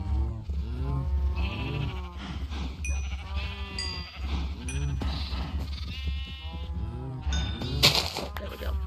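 Several sheep bleating repeatedly at close range, a busy overlapping chorus of wavering calls with a few bright chime-like dings toward the end.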